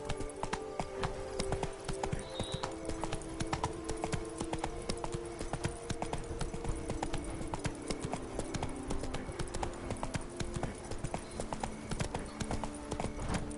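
Roach the horse galloping in The Witcher 3 video game, hooves clip-clopping in a rapid, even rhythm throughout, loud and close over a steady background of game sound.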